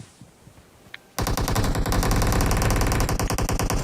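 Automatic gunfire in the video game PUBG Mobile erupts suddenly after a quiet moment, becoming a loud, sustained stream of rapid, evenly spaced shots that continues to the end.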